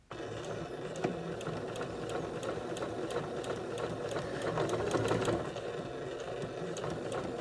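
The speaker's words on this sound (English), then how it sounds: "how you like to stitch along your fabric using your machine" Sewing machine stitching quilt fabric for a flower garden quilt block, running continuously with a rapid, even mechanical rattle and needle clatter, close and steady with a slight swell near the end.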